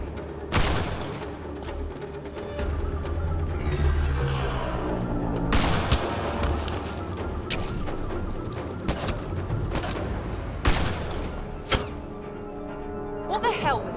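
Gunfire during a sniper fight in Mass Effect Andromeda on the moon Kadara: loud, scattered shots and thuds over about fourteen seconds, with characters' voices shouting over them.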